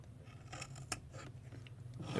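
Small, very sharp cutters snip vape wick material, giving a quiet close-up snip with one crisp click and faint rubbing around it.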